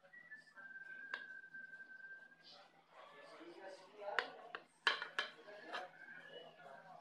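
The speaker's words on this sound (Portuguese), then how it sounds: "Então, pessoal, eu vou cortar um pedaço aqui." A piece of economical stovetop passion fruit pudding is cut and served, with quiet clinks and scrapes of cutlery against a plate following a thin whistling tone, faint and close.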